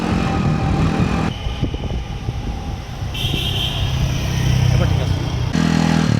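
An XDV 100 scooter ridden along a road with deep dips, its engine droning and shifting in pitch as it passes, with brief voices over it.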